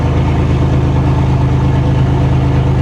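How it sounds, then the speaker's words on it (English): Chevy Blazer Xtreme with 166,000 miles idling with no exhaust fitted, a loud, raw, rapid low-pitched engine burble that drones close and steady, with no voices. "It does run. It just has no exhaust."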